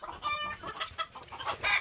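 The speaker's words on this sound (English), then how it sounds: "So I can break up these roosters for sure." Roosters fighting in a backyard give a series of sharp clucks and squawks with a short crow-like call, close and fairly quiet, in irregular bursts and with no talking.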